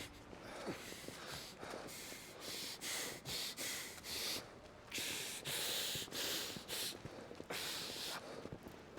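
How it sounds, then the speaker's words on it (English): Loud, rhythmic breathing from characters in the Final Fantasy XVI video game, a series of close, heavy breaths and snorts, each lasting about half a second with brief gaps. "Some loud breathing they're doing."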